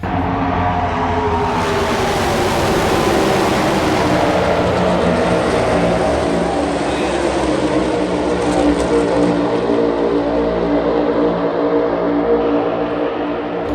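Race cars roaring past at Talladega heard from atop an RV beside the track, a loud continuous engine drone that swells and holds throughout.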